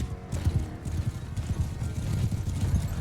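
Galloping horse hooves in Mount and Blade Bannerlord, a fast, steady clip-clop rhythm of close, heavy hoofbeats that keeps going throughout, with no voices.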